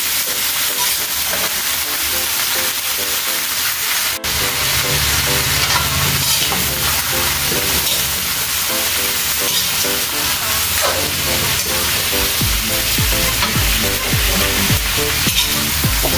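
Shrimp sizzles and fries loudly in a hot pan in a continuous steady hiss, with scraping stirs toward the end and no talking.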